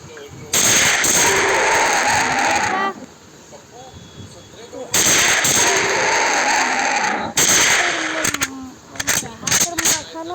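Gunfire in a dinosaur hunting video game comes in loud, close, sustained automatic bursts separated by short pauses, then breaks into quick choppy volleys near the end.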